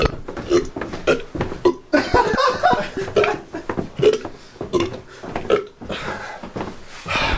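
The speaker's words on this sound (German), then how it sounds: "du bist ja ein rülpsender Schlingel" A person burping loudly several times in a row, deep guttural belches mixed with chuckles and laughter, with people talking around in a lively indoor show setting.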